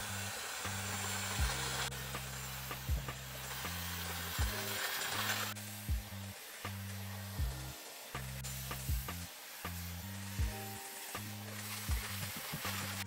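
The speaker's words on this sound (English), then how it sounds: "I'm just going to blast it dry with my Dyson." Dyson hair dryer blasting hair dry, a loud, steady blowing roar with low hum tones that shift as the dryer moves, broken by brief knocks and handling noises, with no talking.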